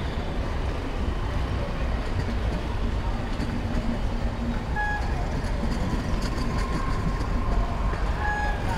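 A passenger train rolls out of a curve onto straight track on the way into SMVT Bangalore, a steady, continuous rumble of wheels and carriages from on board, with faint higher tones near the end.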